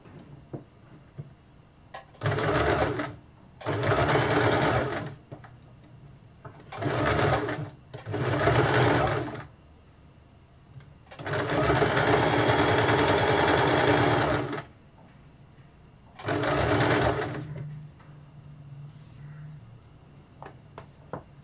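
Sewing machine stitching a simple-pattern blouse, running in six separate bursts of a few seconds each with short quiet pauses between, close and steady, with a longer run in the middle.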